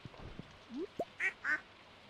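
Two short quacks from a duck in the farming game Stardew Valley, clear and close, spaced a beat apart after a few soft bleeps and chirps.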